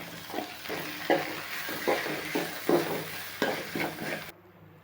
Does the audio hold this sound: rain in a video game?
no